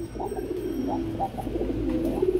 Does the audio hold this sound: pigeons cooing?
yes